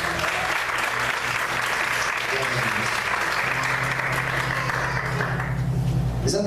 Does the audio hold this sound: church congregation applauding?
yes